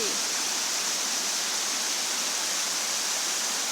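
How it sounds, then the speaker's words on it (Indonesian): Waterfall at Njurug Talang Purba gives a steady, soft broadband rush of falling water, continuous and distant-sounding with no other sounds. "air terjun, curug."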